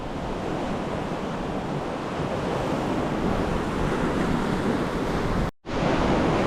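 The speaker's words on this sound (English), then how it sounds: "Big waves." Big ocean waves crash against a rocky shore where a boat has run aground and filled with water. The surf forms a steady, loud, broadband roar with constant wind noise, and the sound drops out briefly near the end.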